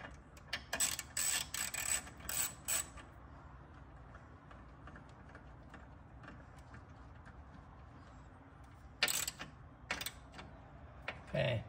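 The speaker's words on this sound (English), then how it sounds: "you can go ahead and you can put your bolt back in" A bolt is threaded back into an engine bracket on a C8 Corvette during a custom engine cover install, giving bursts of light metallic clicking and ratcheting at the start and again near the end, with quieter handling in between.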